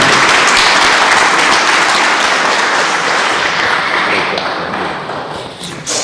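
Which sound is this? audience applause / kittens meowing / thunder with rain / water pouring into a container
audience applause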